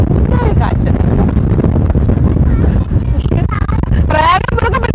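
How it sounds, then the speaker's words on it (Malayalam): Strong wind buffets the microphone outdoors near shipping boats, producing a loud, rumbling roar throughout while people talk over it. "എന്തൊരു കാറ്റ്, ഭയങ്കര കാറ്റ്."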